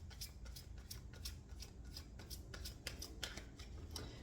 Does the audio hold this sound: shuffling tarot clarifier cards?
yes